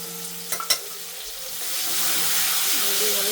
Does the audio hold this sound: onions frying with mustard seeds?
yes